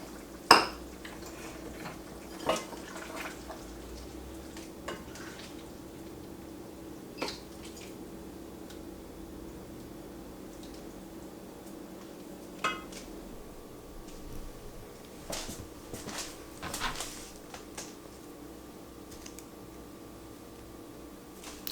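Dishes and utensils clinking in a kitchen while Italian sausage tortellini soup is served, faint sparse clinks and taps scattered over quiet room tone.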